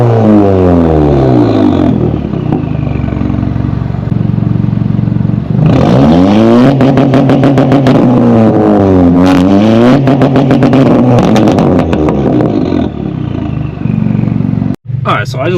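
An Audi A3 with an APR stage 2 tune idles, then revs and pulls away with rising and falling engine pitch, loud and close inside the car.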